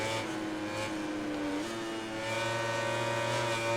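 A Suzuki motorcycle races in MotoGP 19, its engine revving steadily and loud throughout, the pitch climbing and dropping with gear changes as it runs hard through the corners.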